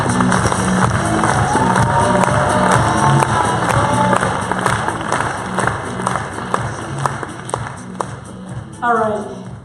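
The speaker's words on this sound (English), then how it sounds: "Please give a big round of applause for Mrs. Monique Moreau!" A live crowd at an evening entrepreneur event in Zurich applauds and cheers for a speaker being introduced, with dense sustained clapping and whoops filling the room, then a brief burst of louder cheering near the end.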